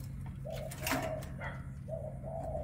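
A pigeon being kept while it moults coos in several soft, low, repeated phrases close by, with a steady low hum beneath and no voices.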